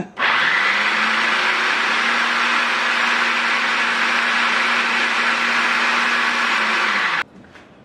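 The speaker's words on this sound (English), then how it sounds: "Then you want to pulse that again. Not pulse, but puree it." A food processor purees basil for pesto with a loud, continuous motor whir that holds steady for about seven seconds, then cuts off sharply.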